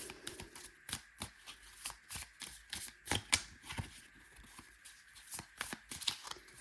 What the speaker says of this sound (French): Donc, on va sortir les petites cartes. Alors, un petit blackjack.